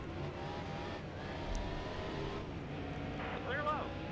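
In NASCAR Heat Evolution, race car engines drone steadily with a revving whine as cars run close together, and someone talks over the engine noise.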